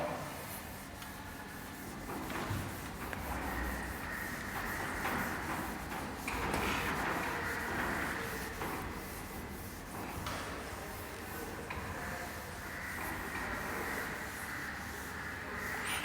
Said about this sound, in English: I will rub this.